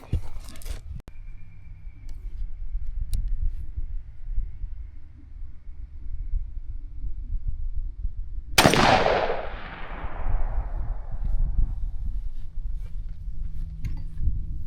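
A single sharp shotgun blast from a .410 firing a Rocky Ridge TSS turkey load during outdoor pattern testing, loud and close with a decaying rumble over steady background noise.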